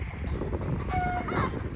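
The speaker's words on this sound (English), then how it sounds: "Green Legs is our main rooster making the big noises in there right now." Green Legs, the main farm rooster, calls loudly from inside a coop among hens, giving a short strained cry over a steady background of clucking and farmyard murmur.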